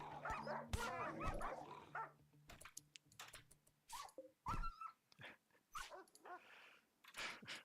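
A dog in the video game RimWorld gives several short, sharp barks and yips in separate bursts with gaps between them, fairly close and clear over faint game sounds.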